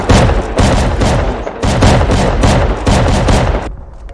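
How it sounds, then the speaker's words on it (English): Shotgun traps firing inside a base in the game Rust, a loud rapid burst of heavy blasts in quick succession, each shot booming close, ending abruptly with a quieter tail. "Shotgun traps"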